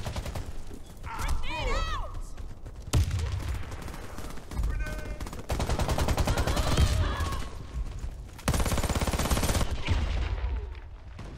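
Rapid gunfire bursts in a Warface first-person shooter match on Xbox One, loud and repeated across the whole stretch with shifting weapon sounds and game effects, under occasional voice.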